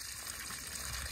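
Grey wastewater drains from the tank of an Auto Trail Apache 634 motorhome in a soft, steady trickling gush, faint and continuous with no voices.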